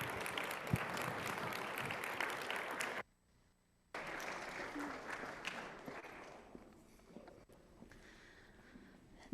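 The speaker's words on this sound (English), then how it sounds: "Y'all clap?" A church congregation breaks into applause after a guest preacher's sermon, clapping loudly for a few seconds, stopping abruptly into near silence, then resuming more thinly and fading.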